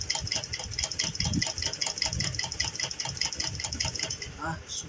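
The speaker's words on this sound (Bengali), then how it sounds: "আরেকবার দিয়ে দিচ্ছি যাতে সেলাইটা খুব মজবুত হয়।" A sewing machine runs a second, reinforcing line of stitching over an existing seam. It makes a steady, rapid, rhythmic clatter that continues without a break.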